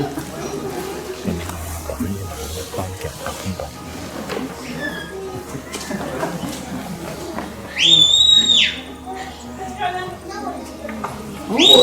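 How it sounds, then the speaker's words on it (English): A shepherd's right-hand whistle command sends a sheepdog over a gateway to bring sheep back up the hill at Walter Peak Farm, Queenstown. Sharp rising and falling whistle bursts come late in the clip after someone talks outdoors. "using her right hand whistle command to go over this gateway here"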